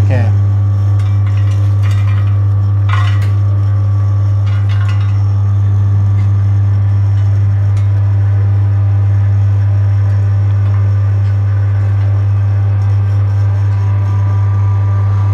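An MKS-J05 seed oil press machine runs with a loud, steady motor hum and a constant low drone, with faint mechanical clicks and rattles over it and no talk.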